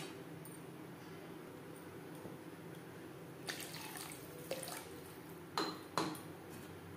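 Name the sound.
water poured into a pan of curry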